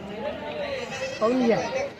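Goats bleating at a Saturday goat market in Chalisgaon, with a louder bleat near the middle rising over someone talking continuously and crowd chatter.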